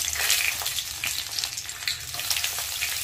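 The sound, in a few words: cashews frying in a pan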